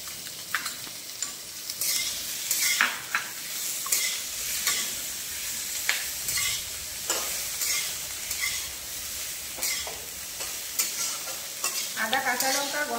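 Potato, papaya and drumstick pieces frying with ginger and green chili paste for a Bengali shukto, sizzling steadily as a spatula scrapes and stirs the pan in repeated close clattering strokes.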